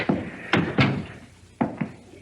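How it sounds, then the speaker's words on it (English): Several heavy wooden thuds and knocks like a door being shut and handled indoors, five or so sharp impacts spread irregularly, close and fairly loud. "Come in and shut the door."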